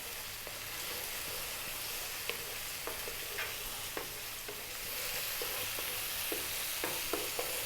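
Curry paste sizzles steadily in a pan for a sea bass curry, with sharp clicks and scrapes of a spoon stirring it at irregular intervals; no one speaks.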